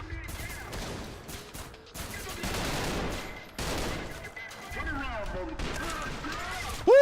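Rifle gunfire in the shooter Trepang2, a run of loud shots in bursts with brief gaps, under voices talking over the action.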